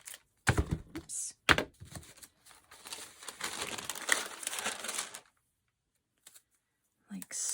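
Vintage-style decorative tape crinkles and rustles as it is pulled, torn and pressed down on a handmade flower fairy journal page, with soft close tapping and a longer stretch of crackling handling before it falls quiet.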